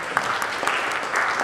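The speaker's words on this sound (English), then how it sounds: "Give applause to" A humanist conference audience in Melbourne gives a brief round of applause, a steady wash of many hands clapping at moderate loudness, heard as a room-filling texture rather than distinct claps.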